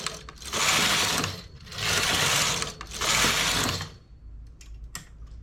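A knitting machine carriage is pushed across the needle bed three times in quick succession, each pass a loud close mechanical whirring clatter lasting about a second, followed by softer clicks of needles being handled.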